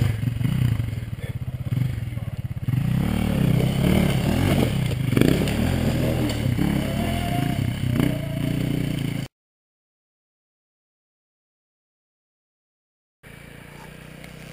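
An enduro motorcycle labors over rough terrain, its engine straining and revving up close amid clattering and scraping, with talk mixed in; the sound cuts to silence for about four seconds, then the engine resumes.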